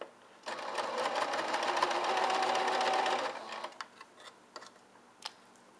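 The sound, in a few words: sewing machine stitching a pettiskirt seam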